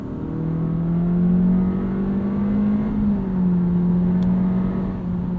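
A 2022 Honda Civic Touring engine revs steadily under paddle-shifted simulated gears on a back road, a close, continuous whir that rises and eases as the gear changes come. No one speaks.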